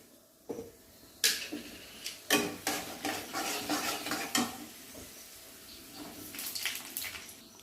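Chana dal fries in a pan as it is stirred, producing a series of uneven scraping and clattering strokes over a light sizzle, close and unaccompanied by speech.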